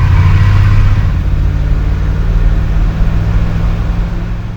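Classic truck engine with a holed exhaust revs under throttle, a loud, deep, rough rumble that swells early and then holds steady with a raspy edge, close by and with no talk.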